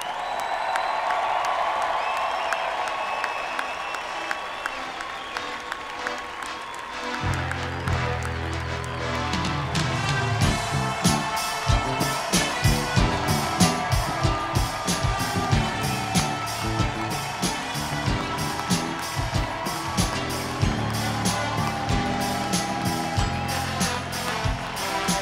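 A baseball crowd applauds for Levi's home run for life, clapping and cheering in a rising wave that spreads from scattered claps into sustained, thick applause. Rhythmic claps and stomps carry on through it.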